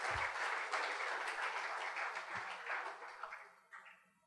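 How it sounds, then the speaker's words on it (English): Audience at a talk with a tennis player breaks into full applause, loud and sustained at first, then thinning out and tapering off toward the end. "I think he deserves a big round of applause for that."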